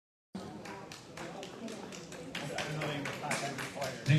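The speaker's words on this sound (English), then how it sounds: "The crowd goes wild." Applause from a church audience after a music performance, starting abruptly and holding as steady clapping, fairly soft and slightly distant, with a voice speaking over it.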